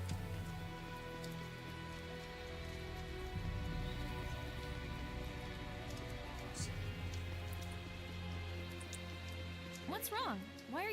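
Steady rain in a video game, a continuous hiss of falling drops filling the background under low musical tones, with a brief rising whistle-like sound near the end.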